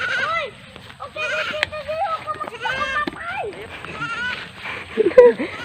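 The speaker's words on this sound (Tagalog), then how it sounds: "Ayan po, kambing." A goat bleats several times nearby, wavering cries mixed with a voice and people talking around it.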